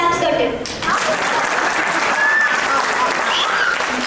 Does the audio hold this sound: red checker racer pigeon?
no